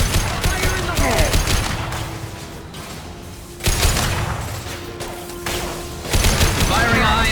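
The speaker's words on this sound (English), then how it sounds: "Firing a high-impact shot!" Rapid bursts of gunfire and heavy impacts from a firefight in Mass Effect 2, loud and close, with brief pauses and short voice lines mixed in.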